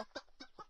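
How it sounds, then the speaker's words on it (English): A chicken clucks in three short, close bursts, fairly loud and with nothing else audible behind it. "Chicken."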